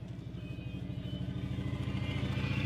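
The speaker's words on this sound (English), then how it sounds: "Motorcycle." A motorcycle engine putters with a rapid, regular thrum that grows steadily louder as it approaches.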